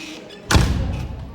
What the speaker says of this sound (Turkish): Kapı kapanmıyor.